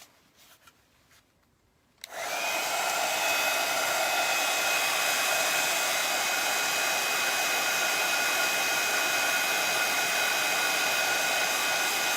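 A hair dryer dries paint on a wood pulp steampunk butterfly mask. After a couple of quiet seconds it switches on, then roars with a loud, steady, close whir until the end.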